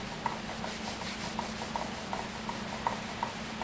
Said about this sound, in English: Jig that I'm using for sanding